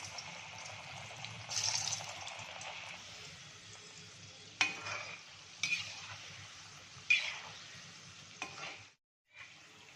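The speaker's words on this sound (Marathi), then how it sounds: "मी आता एक एक सोडणार आहे ही भाकरवडी लो फ्लेमवरच फ्राय करायची" Bhakarwadi pieces are lowered one at a time into hot oil over a low flame and deep-fry with a soft, steady sizzle, broken by sharp bursts of bubbling as each piece goes in. No voice is heard.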